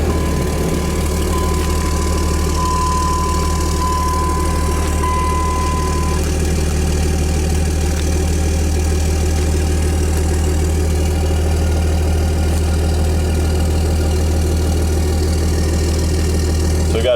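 A Dodge Ram truck engine idles steadily and close by with no transmission connected, a constant low rumble with a faint tone at the start, running without a break throughout.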